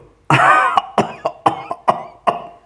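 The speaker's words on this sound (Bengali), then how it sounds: "ওর বাবার খক খক কাশি পিছন থেকে শোনা গেল" An elderly man gives a run of about seven sharp, hacking coughs in quick, evenly spaced succession, close and clear, performed as a sound effect in a Bengali audio story.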